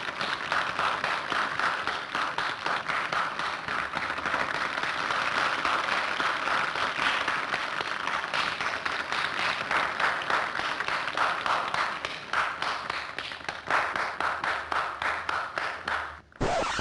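Sustained applause from an audience, a dense steady wash of many hands clapping for about sixteen seconds without talk, cutting off abruptly at the end.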